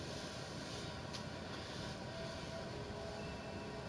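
A train in the Choo-Choo Charles video game moves along with a steady, droning mechanical rumble and broad noisy hiss that holds constant and fairly loud from start to finish.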